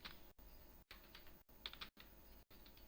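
Java code being typed on a computer keyboard, quick close key clicks in bursts broken by brief gaps, fairly quiet and with no voices.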